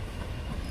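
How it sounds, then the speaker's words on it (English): A train passes in the background as a steady, faint rumble with a rail hiss and no other sound over it. "there's a train in the background"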